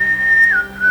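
A person whistles a family call signal, imitating the distinctive whistled call a father used for one of his children. It is one close, clear, sustained whistle that dips slightly in pitch partway through and then resumes.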